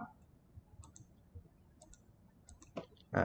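A computer mouse being right-clicked while working in TopSolid 7 CAD software, a few faint, sharp clicks over quiet room noise, ending with one louder, closer tap.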